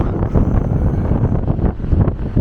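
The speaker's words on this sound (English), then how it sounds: "It's so windy" Strong, steady wind roars and buffets the microphone throughout at the end of Central Pier, Blackpool, a dense low rumble with gusty surges and no voices.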